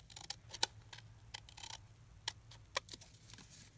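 Scissors snipping through a paper tag for a pink Christmas mini purse journal, a few quiet crisp cuts spaced irregularly over a low background hum, with no talking.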